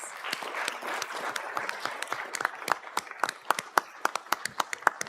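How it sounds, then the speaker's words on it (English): A small council-meeting audience gives a round of applause, a steady patter of claps that thins into louder, separate individual claps toward the end, moderately distant. "let's give him a round of applause"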